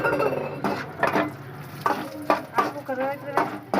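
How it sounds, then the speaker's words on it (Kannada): Almonds fry in a pan and are stirred, with a soft sizzle beneath irregular scraping strokes that come up close at moments, while a voice speaks intermittently over it. "ಬಾದಾಮಿ ಹಾಕೊಂಡು ನೀಟಾಗಿ ಅದೊಂದು ಸ್ವಲ್ಪ ಫ್ರೈ ಮಾಡಿಬಿಟ್ಟು"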